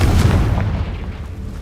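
A Confringo spell blast in Hogwarts Legacy booms loudly from the start, its deep rumbling roar slowly tapering over a second and a half without any voices.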